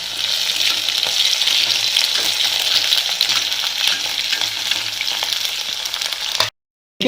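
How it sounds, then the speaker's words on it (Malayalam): Chopped ginger and garlic added to softened chillies frying in a pan, making a loud, continuous close sizzle with stirring noises, ending in a brief cut to silence near the end. "ഇതിലേക്ക് നമുക്ക് അരിഞ്ഞു വെച്ചിരിക്കുന്ന ഇഞ്ചി, വെളുത്തുള്ളി ഇട്ട് കൊടുക്കാം."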